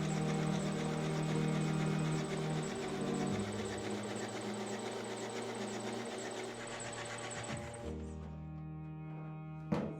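Starter motor on a Land Rover Series 2A cranking the engine: a loud, steady mechanical churn runs close-up for about eight seconds, then cuts off, leaving a faint hum.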